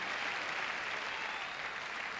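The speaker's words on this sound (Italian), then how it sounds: "fategli un applauso, che è timido" Studio audience applause for a shy young boy named Tino at a 1991 Italian television theatre show, a steady dense wash of clapping sustained alone throughout.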